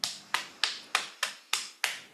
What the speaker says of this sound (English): tapping all the way down the inside of your arm